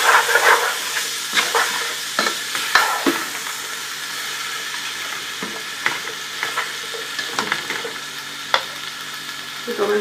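Vegetables with chillies and salt stir-fry in a pan for chicken vegetable rice, a steady sizzle broken by repeated scraping and stirring clatters, close and fairly loud, with no talk.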